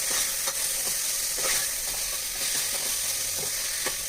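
Chopped tomatoes being stirred while they cook for a homemade mutton biryani, a continuous bright sizzle with regular scraping spoon strokes every half second or so, close and steady.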